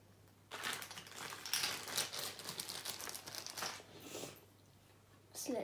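Metallic slime being mixed by hand makes wet, crinkly squelching and crackling in close, irregular bursts, with a short pause before one last squish.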